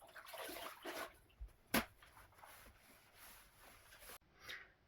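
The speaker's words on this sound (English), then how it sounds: "wetting the floor with just cold water" Faint watery swishing and rubbing as a wooden floor is soaked with cold water, with one sharp knock partway through, quiet and close.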